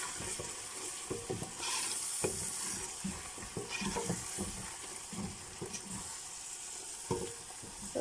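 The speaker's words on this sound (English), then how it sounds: "And I will stir together." Spices stirred into a pot of egusi soup, a continuous close sizzle and bubbling with irregular scraping strokes of the spoon against the pot.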